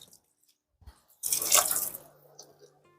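A light spray of water sprinkled over jade plant leaves: after a couple of faint taps, a short hissing shower starts abruptly, peaks briefly and then trails off into soft drips, close and alone.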